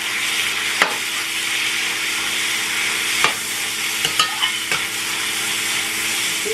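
Meat cooks in a pan for Chinese-style rice, giving a constant moderate sizzle with a few sharp utensil taps and scrapes against the pan.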